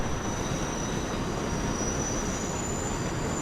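A subway train pulls into Court Square station in the World of Subways 4 simulator, a steady, loud rolling rumble with a faint high wheel whine sustained throughout, no voices.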